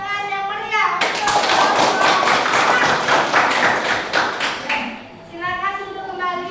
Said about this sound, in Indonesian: Kita beri tepuk tangan yang meriah untuk